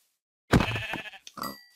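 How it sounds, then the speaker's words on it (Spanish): A sheep in the Minecraft survival game bleats once, close and clear, followed by a shorter second bleat, with no talk. "Voy a matar a las ovejas."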